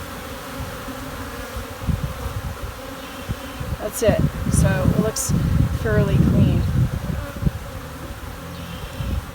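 Honey bees buzzing around an opened hive during a spring split in Durango, Colorado, a steady drone that swells as frames are handled, with a person talking over it.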